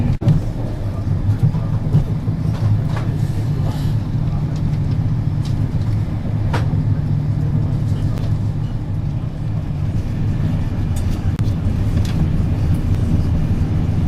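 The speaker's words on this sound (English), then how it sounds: "The train soon picks up speed and hurtles through the smaller stations" A continuous low rumble and rattle of a fast-moving train, steady and loud throughout, with occasional faint clicks.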